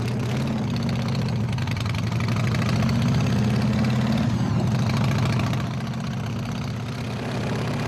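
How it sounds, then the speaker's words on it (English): Custom-built compressor-driven motorcycle engine running at idle, a loud, steady low rumble with a pulsing throb, dipping slightly near the end. "everyone's supposed to see that the bike actually runs"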